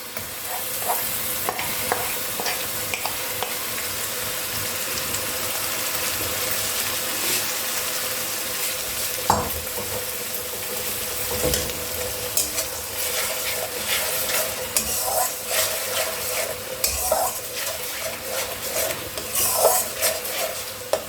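Fried onion is stirred into tomato chicken in a sizzling pan, with repeated scraping and clinking of the spoon against the pan over a constant frying hiss for about twenty seconds. No voices.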